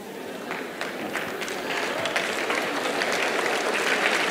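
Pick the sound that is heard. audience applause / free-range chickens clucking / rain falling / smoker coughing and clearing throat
audience applause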